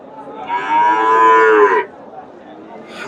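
Friesian heifer mooing at Chandaikona cattle market, a single loud, drawn-out moo lasting about a second and a half, close to the listener, followed by faint market background.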